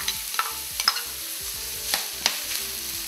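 Onion, green chili and ginger frying in a pan for samosa filling, a steady sizzle with periodic scraping clicks from stirring, close up and with no talking.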